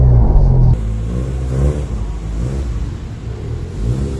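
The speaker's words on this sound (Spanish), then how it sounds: "Acelero aquí nuevamente" Car engine revving under acceleration while the clutch is worked to climb a speed bump on an uphill slope, a loud close rumble that drops after a moment and then builds again steadily.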